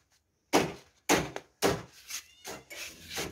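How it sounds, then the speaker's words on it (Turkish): Workers fitting an old door in a village house renovation: a series of loud, close wooden thumps and knocks, five or six irregular impacts in quick succession with no talking. "Kapıyı uydurmaya çalışıyorlar eski kapı."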